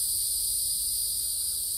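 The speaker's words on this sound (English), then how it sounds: "The cicadas are here, katydids." Cicadas and katydids in a front yard produce a steady, high-pitched insect drone, continuous and even, heard alone with no talking.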